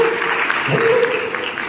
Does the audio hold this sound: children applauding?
yes